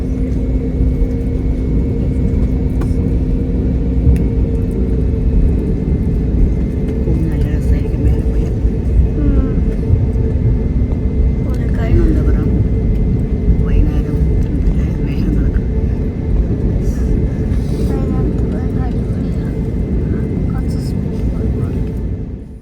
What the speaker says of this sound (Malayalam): ഇപ്പോൾ ഫ്ലൈറ്റ് ടേക്ക് ഓഫിലോട്ട് പോയിക്കൊണ്ടിരിക്കുകയാണ് കേട്ടോ